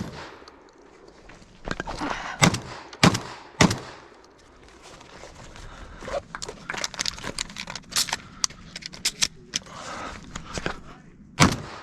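Shotgun fire at clay targets during a shotgun shooting event outdoors: several sharp, loud reports cluster early on, then one more near the end, over low rustling background noise.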